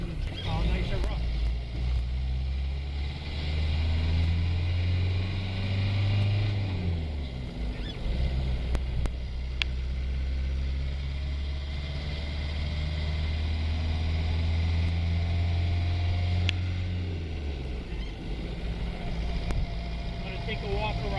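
A right-hand-drive 1987 Land Rover Defender 110 with a turbo diesel and five-speed gearbox runs on the move, its low engine drone steady throughout with a couple of rises and falls, heard from inside the vehicle.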